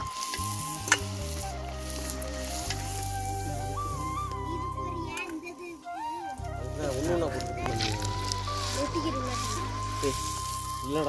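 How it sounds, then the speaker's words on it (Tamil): Pani puri dough balls deep-frying in hot oil, a steady dense sizzle running throughout, with a person talking over it. "நல்லா பானிபூரி நல்லா பொசு பொசு பொசுன்னு வருது"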